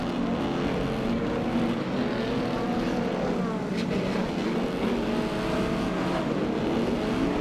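Speedway race car engine droning steadily under a loud, continuous mechanical roar, with rising and falling pitch as the car runs around the track, and a commentator's voice faintly in the mix.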